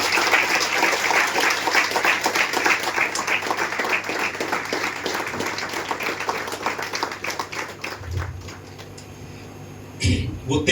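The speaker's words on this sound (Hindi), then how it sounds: "आइए धन्यवाद की ताली देंगे।" A church congregation applauds in thanks, dense steady clapping from many hands filling the room, loud at first and then thinning and fading after about eight seconds, followed by a brief knock.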